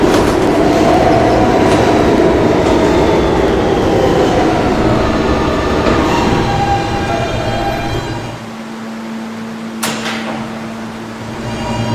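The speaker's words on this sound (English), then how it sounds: "This is a 39th Street bound M local train." An R160B subway train on the M local runs steadily and loudly, with dense rumble and rail noise, then eases down near the end, followed by a brief high metallic click.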